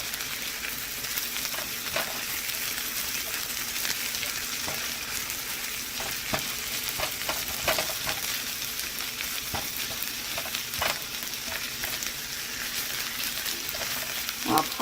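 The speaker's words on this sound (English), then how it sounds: "So now I'm going to add in the jalapeno and cook it for about another minute." Jalapeno cooking in a pan with garlic for spiced potatoes, a steady soft sizzle and crackle with occasional stirring clicks throughout.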